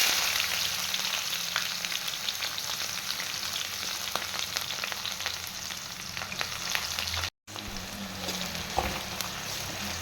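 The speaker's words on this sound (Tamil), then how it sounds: "இப்போ நம்ம வெங்காயம் சேர்த்துக்கலாம்." Onions fry in hot oil with fenugreek seeds in a pan for a spicy fish curry, giving a steady, loud, continuous sizzle with faint stirring scrapes and one brief cut near the end.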